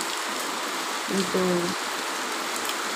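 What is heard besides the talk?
heavy rain falling outside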